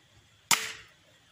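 An 80 lb crossbow fires a nylon bolt at point-blank range, giving one sharp, close snap that fades quickly against a quiet background.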